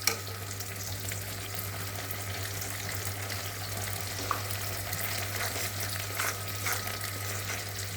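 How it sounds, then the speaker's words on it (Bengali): Masala spice paste with salt fries in a pan for a Bengali fish curry, giving a steady, close sizzle that runs evenly throughout with a low constant hum beneath and no voices. "ভালো করে মশলাটাকে কষাতে হবে।"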